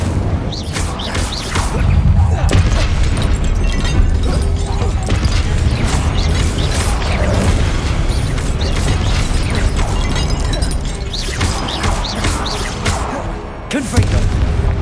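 Incendio fire spell cast repeatedly in the Hogwarts Legacy video game, a loud, sustained roar of fiery bursts and crackling impacts with heavy booms throughout, mixed with other spell effects and combat noise.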